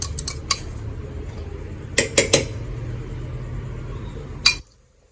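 A metal spoon clinking and scraping against a bowl while mashing thick curd for Onam sadya pineapple pachadi: a few sharp clinks at the start, a cluster mid-way, another near the end, over a low background hum.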